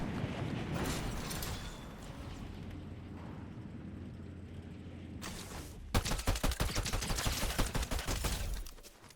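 Gunfire in a Fortnite Zero Build match, bursts of shots and rattling fire with a dense volley in the latter half, heard through game ambience without talk.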